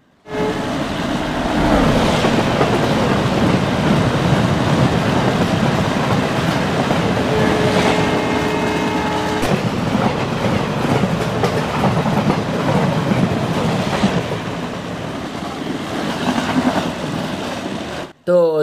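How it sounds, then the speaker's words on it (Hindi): A steady, loud rumble of a train rolling along tracks in a railway video game, with rhythmic clacking, continuing for a long stretch before cutting off abruptly. "मेरी आवाज़ बंद करके एक बार सुनो मतलब कि ट्रैक साउंड के साथ"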